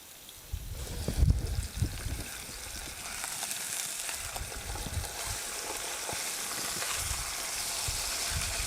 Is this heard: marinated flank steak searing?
yes